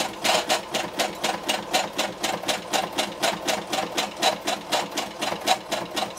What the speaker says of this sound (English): I'm going to sew all of the way round to create our little pocket.